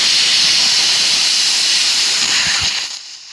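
Compressed air rushing out of a disconnected truck brake air line, a loud continuous hiss that holds steady for a few seconds and then tapers off.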